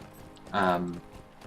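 Horse hooves clip-clop briefly while riding a mount in the online game Lord of the Rings Online, a short loud burst of a few quick hoofbeats over faint background ambience.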